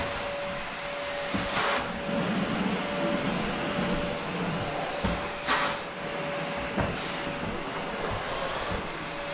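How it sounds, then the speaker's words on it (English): A vacuum cleaner runs steadily at home, its constant whine sitting near and fairly loud, with a few brief bumps and knocks breaking the drone. "This vacuum is very quiet,"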